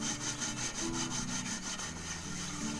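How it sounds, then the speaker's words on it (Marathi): Steady rhythmic scrubbing of soot-blackened cooking pots used over a wood-fired clay stove, a continuous abrasive rasping with regular strokes, moderately close and without talk. "जरा भांडी घासून घेते"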